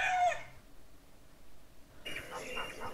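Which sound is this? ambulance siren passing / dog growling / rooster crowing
rooster crowing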